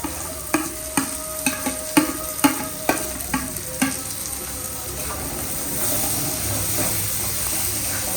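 Eggplant cooks with masala in a pan while a spoon knocks against it about a dozen times at a steady beat. The taps stop, and then a continuous near sizzle and hiss carries on by itself.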